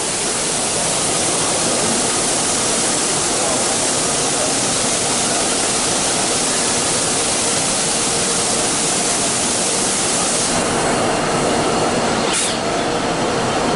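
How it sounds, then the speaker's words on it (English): A Royal Master grinding machine at the IMTS 2024 trade show finishing its grind with a water blast: a loud, steady broadband hiss and rush of spraying water that holds throughout, with a brief sharp change near the end. "at the end of the grind, it goes down and does a water blast"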